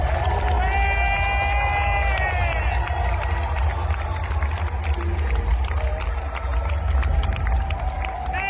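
A live Eurovision 2025 semifinal jury-show audience cheers and applauds loudly in a big arena as a performance ends, a dense, sustained roar of crowd noise with singing voices and a commentator's speech faintly mixed in.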